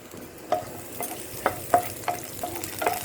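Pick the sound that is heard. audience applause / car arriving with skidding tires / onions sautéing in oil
onions sautéing in oil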